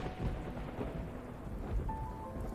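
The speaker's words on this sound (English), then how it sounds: "I'm about to poke his cheek when thunder suddenly roars." Thunder rolls and rumbles in the video game Love and Deepspace, a low, steady, moderately faint roar blended with the hiss of rain, with no voices.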